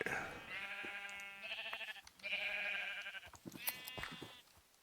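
Minecraft sheep bleat in several drawn-out, wavering calls, one after another with short gaps, fairly clear and moderately loud in the game.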